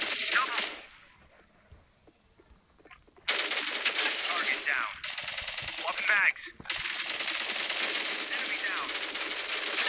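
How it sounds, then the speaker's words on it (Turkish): Automatic gunfire in the mobile first-person shooter Matr1x Fire, heard as long, loud, rattling bursts after a quieter opening, with a short break between them. Someone talks over the shooting. "Kime sıkıyorum ben şu anda?"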